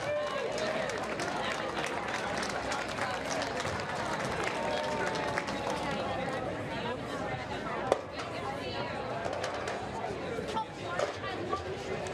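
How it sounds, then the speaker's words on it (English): A crowd at the Pine Tree Apple Tennis Classic open division final applauds the champions with dense, sustained clapping. The applause runs steadily for about twelve seconds, mixed with murmured chatter throughout. "Let's give a rousing applause for Annika Munson and Sam Rathmanner."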